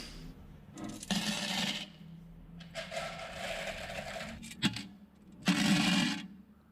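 Aquarium gravel stones are poured into a new tank in three separate rattling, hissing pours with brief pauses between them, close and fairly loud.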